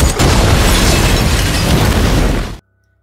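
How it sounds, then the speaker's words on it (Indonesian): A loud, roaring blast fills the space with dense rumbling noise for a couple of seconds, then cuts off abruptly into silence. "Setelah ledakan tersebut"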